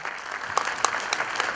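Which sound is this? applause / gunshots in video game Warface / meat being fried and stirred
applause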